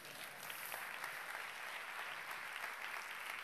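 Audience applause at a technology talk, a soft, distant wash of even clapping that holds steady without pause.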